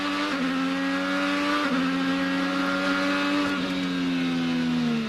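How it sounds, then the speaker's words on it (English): Honda-powered IndyCar at speed during the 2015 St. Petersburg street race, a loud continuous high-pitched engine whine with a couple of quick gear-shift pitch drops, close and steady with no talk. "Look at our Honda telemetry with Ryan Hunter-Reay, who's worked his way back up to 7th place."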